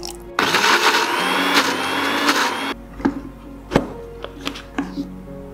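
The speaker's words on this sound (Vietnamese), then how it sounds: "Bây giờ mình sẽ cho bí đỏ ra cối và mang đi xay nhuyễn." Electric blender pureeing steamed pumpkin with fresh milk, a loud sustained whirring roar for about two seconds that cuts off, followed by a few clunks and knocks of the jar.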